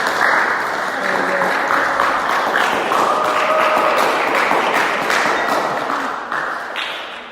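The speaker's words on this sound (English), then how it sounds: "go ahead and give him applause." Loud, sustained audience applause at a Buddhist Dharma talk, a dense wash of clapping from a nearby crowd that fades slightly at the end, with a brief spoken word over it.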